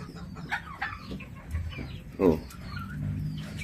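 A brooding hen clucking while sitting on a clutch of eggs at a backyard poultry pen, soft low clucks and a few sharper calls scattered across the span, close and fairly quiet, with faint voices in the background.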